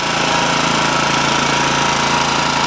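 Honda HR214 lawn mower engine runs steadily while self-propelled in first gear, a loud, continuous close-up drone with a fine rapid pulse and no talking.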